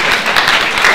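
Audience applause fills a conference hall during a citizens' health-care meeting in Urbino, a steady, dense clapping wash lasting about a second with no pauses.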